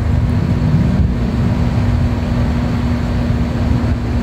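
Steady, loud whooshing air with a constant low hum, unbroken and close, from a repaired electric exhaust fan running at high speed.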